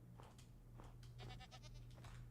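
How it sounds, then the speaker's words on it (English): A goat in the Minecraft video game gives a few faint, quavering bleats in quick succession over a low steady background hum. "Is that a goat?"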